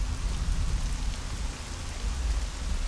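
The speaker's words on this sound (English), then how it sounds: "Notice the heavy rain." Heavy rain in the video game Devil May Cry 3, a steady dense roar of downpour with deep low rumble, continuous and loud throughout with no voices.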